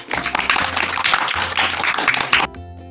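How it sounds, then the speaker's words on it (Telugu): An audience at a school science day claps in dense, steady applause for about two and a half seconds before it cuts off abruptly, close and fairly loud. "క్లాప్స్ కొట్టండి."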